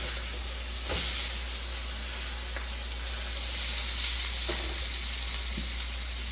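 Bacon fries in a pan for cheeseburgers with a continuous, even sizzle and hiss, steady and fairly loud, broken by a few faint ticks and no talking.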